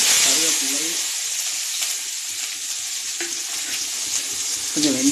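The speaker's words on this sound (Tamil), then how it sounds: "கொஞ்சம் கடுகு போட்டுக்கலாம் கடுகுலாம் கடுகு வெங்காயம்" Mustard seeds and onion going into hot oil with a bright, continuous hiss and crackle, close by, while a voice speaks briefly at the start and end.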